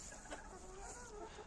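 Hens of the Plymouth Rock breed cluck softly and continuously over a steady low farmyard hum, with no talking.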